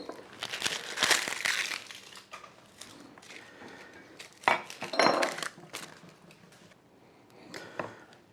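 A large onion being chopped with a knife on a board while cooking jambalaya, giving irregular bursts of crisp cutting and crunching, close and moderately loud, with quieter stretches between.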